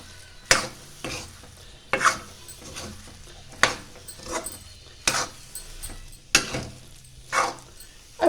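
A spiced potato-and-pea paratha filling being mixed in a pan, with a spoon scraping and knocking in a steady rhythm of sharp strokes about once a second and a soft sizzle underneath.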